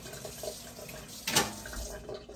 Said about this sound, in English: Sorry, I'm rinsing the spoon.